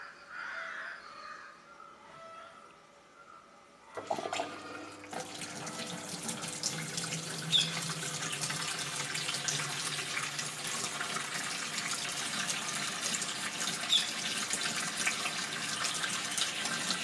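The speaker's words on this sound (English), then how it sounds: "We can run this washing machine on speed wash mode for easy washing." Water rushes steadily into a Whirlpool washing machine filling in speed wash mode, a constant hiss that starts abruptly and runs on evenly, close by, with no talk.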